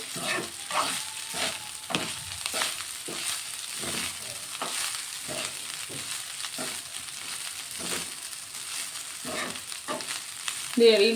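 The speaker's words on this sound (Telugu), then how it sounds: "ఇదిగో అన్నం అయితే వేసుకున్నా, ఇదంతా కలిపి వేసుకుందాం." Cooked rice is stirred into a hot frying pan for white fried rice, with a steady sizzle broken by repeated scraping strokes of a spatula at a regular rhythm.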